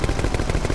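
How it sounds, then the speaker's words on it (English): Rapid shooting in the video game Croc 2: a quick burst of repeated, closely spaced gunfire shots, loud and continuous for under a second. "I'm going to shoot in random directions"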